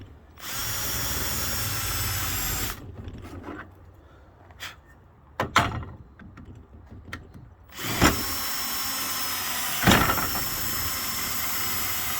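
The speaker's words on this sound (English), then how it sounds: "so I always start with drilling the center hole." A power drill whines loudly as it bores the center hole for a fence gate installation, pauses with a few knocks and clicks between, then runs again in long bursts.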